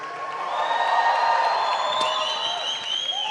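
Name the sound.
audience applause and cheering welcoming Marcos Witt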